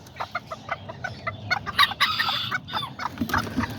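Kikiriki and Azteca chickens and roosters in a backyard flock make repeated clucks and short calls, with a rooster crowing partway through, close and clear and with no talk.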